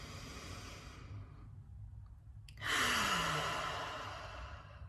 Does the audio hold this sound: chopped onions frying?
no